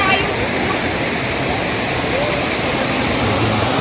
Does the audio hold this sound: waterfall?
yes